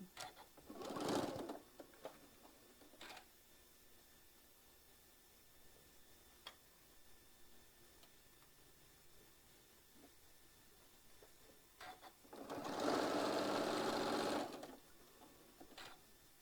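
A sewing machine stitches a quilt block seam with a quarter-inch allowance in two separate bursts, a short one early and a longer run near the end, with quiet stretches of faint ticking between them.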